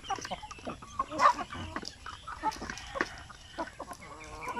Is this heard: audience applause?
no